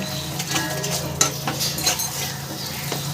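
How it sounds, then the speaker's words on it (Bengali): Spice paste being stirred and sautéed in a pan, with repeated metal scraping and clinks of a utensil over a continuous close sizzle, busy and fairly loud, with no voices. "মশলাটাকে এবার ভালো করে কষিয়ে নেব"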